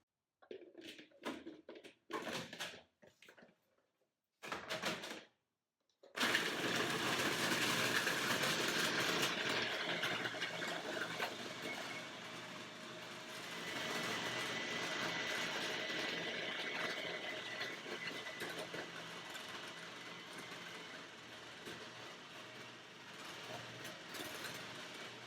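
A blender whirs steadily for about twenty seconds, blitzing frozen banana, dates and cashews into ice cream. A few short clatters come first, then the motor starts and runs at an even, loud drone that shifts slightly partway through.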